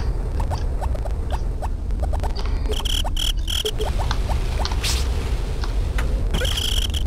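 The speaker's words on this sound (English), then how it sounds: "gotta love them crickets" Night crickets in the Harvest Moon farming game, steady rhythmic chirps over a constant croaking, pulsing ambient bed, with occasional brief higher tones and rustles mixed in.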